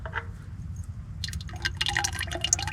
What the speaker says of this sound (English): we're just going to let this drain, and then I'll just put new oil in it